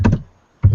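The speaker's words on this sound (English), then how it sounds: "I was typing." Computer keyboard typing up close: two quick, loud clacking keystrokes, a short pause, then another sharp key strike, heard alone.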